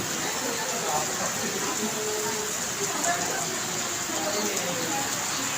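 Heavy rain pouring steadily at a scenic Tagaytay viewpoint, a dense, even hiss of falling water with faint background voices beneath it.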